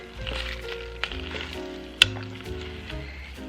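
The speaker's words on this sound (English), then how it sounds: "So I've got 1 cup of evaporated milk. All right, let's stir that to incorporate it." Evaporated milk being stirred into a hot pan, a steady sizzle beneath soft spoon scrapes and one sharp clink against the metal.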